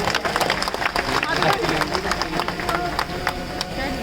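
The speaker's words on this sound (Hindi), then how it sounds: "एक बार जोरदार तालियां हो जाए" Enthusiastic audience applause at a religious gathering, sustained clapping from a crowd with overlapping voices and murmurs mixed in throughout.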